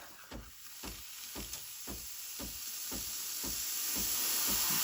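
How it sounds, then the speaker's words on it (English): Breville Barista Express BES870 espresso machine building steam pressure, a steady hiss that grows gradually stronger, punctuated by regular rhythmic pulsing clicks of the pump about twice a second. "When you hear that, that's when the machine starts producing steam."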